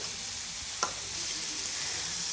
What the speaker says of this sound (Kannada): ಅನಾನಸ್ಸು ಎಣ್ಣೆಲಿ ಚೆನ್ನಾಗಿ ಫ್ರೈ ಆಗಿದೆ